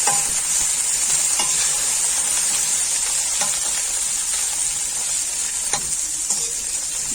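Okra (bhindi) frying in a pan makes a constant close sizzle, broken by occasional light clicks of stirring.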